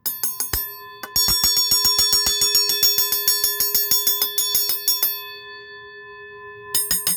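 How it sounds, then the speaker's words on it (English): A brass-and-metal fire alarm bell made in Dayton, Ohio is tapped rapidly and repeatedly with a winding tool, bright ringing dings in a fast run, then a pause and more strikes. "this is what it sounds like if I tap the bell with the winding tool"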